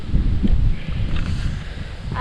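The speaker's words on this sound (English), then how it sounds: "Windy this morning. Very and cold and unexpected wind." Strong cold southeast wind buffets the microphone in low rumbling gusts, loud and uneven, with no other clear sounds, at Hanging Heart Lakes in Prince Albert National Park.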